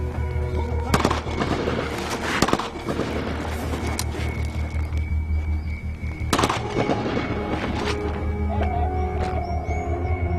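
Several sharp gunshots crack out at irregular intervals over a constant low rumble during a military counter-terrorism search exercise, some loud and close, others fainter, with no talking.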